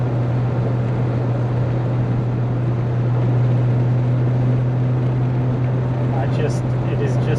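A 1968 Jaguar S1.5 E-Type coupe engine holds a steady, loud drone around 2,300 to 2,400 RPM on a test drive, an even hum with road and wind noise.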